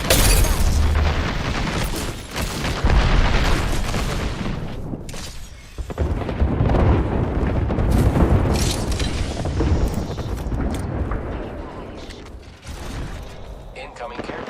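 Airstrike explosions in the video game Apex Legends: a dense, loud barrage of booming blasts and rumbling impacts over about fifteen seconds, mixed with gunfire and game sounds, with short lulls between bursts.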